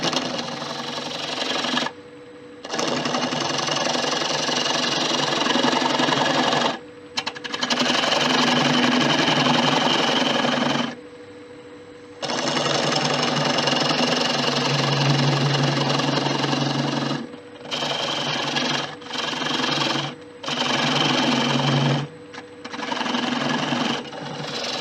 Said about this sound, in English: I'm going to take that down a little bit more now with a spindle gouge